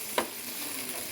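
Green mango pieces cooking in a hot pan, with a single quick scrape of stirring over a steady low sizzle throughout, close and fairly quiet, with no talking.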